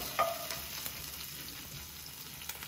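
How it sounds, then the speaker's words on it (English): Smoking-hot oil crackles and sizzles steadily over Sichuan boiled beef, a dense hiss at moderate level with occasional sharper pops near the start. "now that the oil is smoking, ready for the sizzling part"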